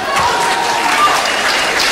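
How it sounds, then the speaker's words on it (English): A church congregation claps together in a dense, steady wash of applause, loud and close, filling the short moment without letup. "Rise up and clap for Jesus Christ."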